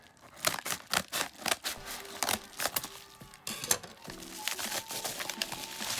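Scissors snip repeatedly in quick, irregular cuts close by, cutting open a thick mail package, with crinkling packaging and small rustles between strokes.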